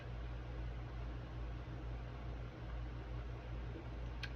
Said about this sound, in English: if you hear like a steady hum in the background, that's my air conditioner